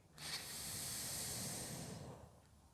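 A long, slow inhale through the nose during a morning neck-stretching exercise, a soft, close, airy hiss that lasts about two seconds before fading, with no talk over it.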